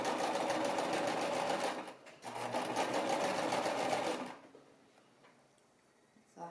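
A sewing machine stitches a baby romper in rapid, rattling bursts, a long run, a brief pause, then another run before stopping, leaving faint handling noises close by.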